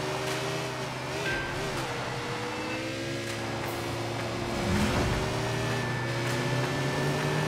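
A motorcycle engine in the Sleeping Dogs video game drones and revs with steady layered tones, fairly loud and continuous, with a brief surge partway through.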